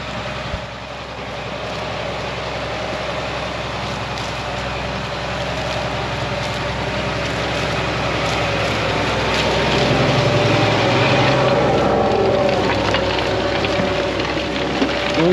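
A Fendt 1050 Vario tractor ploughs sandy, loose soil with a Moro four-furrow plough, its engine a steady, loud, continuous drone that swells slightly toward the end, with no talk over it.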